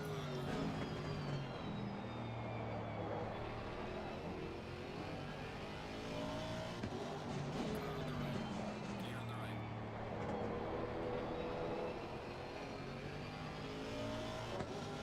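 Ferrari race car in Assetto Corsa Competizione at Zandvoort, its engine droning and shifting pitch steadily for the whole stretch, sitting at a moderate level under ongoing talk.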